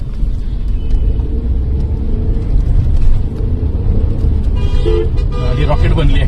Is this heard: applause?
no